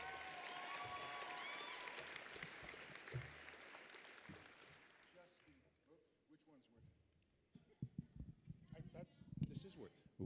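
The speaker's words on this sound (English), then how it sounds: "Round of applause, ladies and gentlemen." Applause from a comic convention panel audience at Phoenix Comicon, a dense clatter of clapping that fades out over several seconds, followed by scattered handling noises and a few voices talking.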